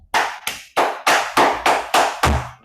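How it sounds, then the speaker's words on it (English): A small group of Grade 6 students in an English class claps in unison, eight sharp, loud, evenly spaced bursts of synchronized clapping close to the listener, with no voices. "Very good. Clap group A."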